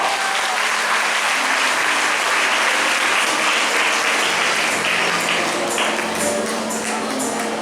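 Sustained applause from an audience at a school felicitation of ICSE student toppers, steady and dense throughout with no letup, filling the room as names are honored.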